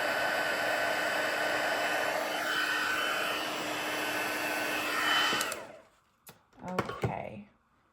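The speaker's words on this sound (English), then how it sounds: "You can see once your heat tool warms up, it takes just a very short amount of time to do your" A heat embossing tool blows a steady, loud whooshing stream of hot air for several seconds, then shuts off, followed by a few light handling knocks.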